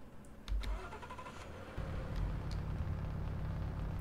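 A Honda Civic in a taxi-driving video game cranks briefly, then the engine catches and settles into a steady low idle rumble, moderately close.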